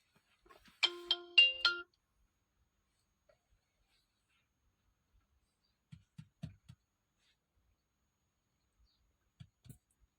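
A mobile phone rings with a short, bright electronic melody lasting about a second, followed by near silence broken by a few faint knocks and clicks.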